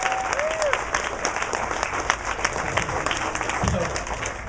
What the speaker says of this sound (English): we need to give Andy's mom, Marcia, a huge round of applause